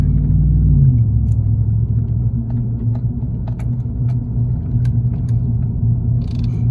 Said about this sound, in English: It's not too loud inside the cab either. Got a little rumble to her.